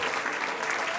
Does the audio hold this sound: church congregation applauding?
yes